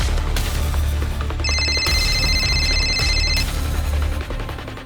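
A telephone rings in electronic bursts, a bright trilling tone that starts, stops and starts again over a low hum of background noise.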